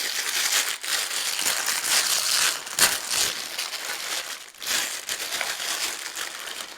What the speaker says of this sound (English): So now let's open up the Magic Remote. The bag is fully sealed.